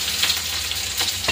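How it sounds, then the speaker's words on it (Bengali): Grated garlic frying in a hot pan, a steady close sizzle with a couple of brief stirring scrapes, no voices. "আর এখন রসুন দিচ্ছি, এই যে রসুনটা গ্রেট করে নিয়েছি"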